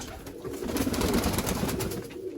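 A black-faced Sialkoti pigeon coos in a loft, a low continuous throaty rumbling over steady background noise, close by.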